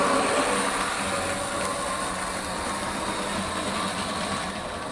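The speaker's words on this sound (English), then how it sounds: "The wagon runs very smoothly. It goes over the points there with no issues at all whatsoever." A model Class 37 locomotive pulls a Piko track cleaning wagon over points, giving a steady whirring motor and rolling hum that stays level throughout with no talking.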